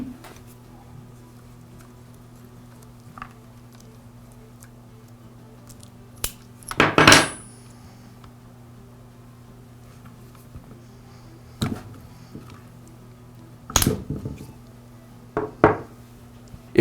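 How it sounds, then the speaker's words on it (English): Small metal parts clink and tap as the throttle cable and fuel lines are detached from the carburetor of an Echo string trimmer, with a few scattered sharp knocks over a low steady hum. "Now I'll remove the throttle cable and the fuel lines from the carburetor."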